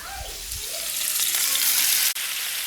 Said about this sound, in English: I'm gonna put them in the fry pan, cook them up